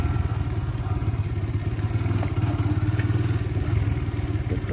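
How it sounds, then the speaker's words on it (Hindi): A motorcycle rides up to a tourist spot in Firozabad and parks, its engine giving a steady, close, low rumble with a faint clattering texture throughout and no voices. "और हमने अपनी बाइक खड़ी कर दी है।"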